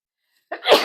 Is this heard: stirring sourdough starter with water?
no